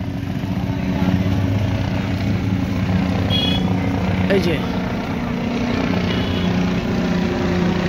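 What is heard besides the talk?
helicopter flying overhead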